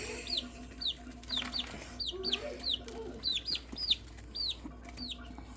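Baby chickens chasing a bug inside their small enclosure let out a rapid string of high, rising peeps and soft clucks, close and fairly quiet against low background hum.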